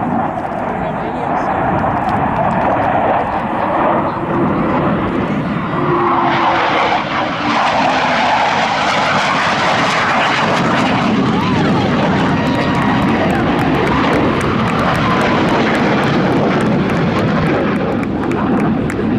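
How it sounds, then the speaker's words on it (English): Blue Angels jets roaring overhead after a high G turn at an air show at Pensacola NAS, a loud sustained engine roar that swells and shifts pitch as they pass, with an announcer speaking over it. "Each pilot now performing a high G turn will come back and pass over center point at the same time."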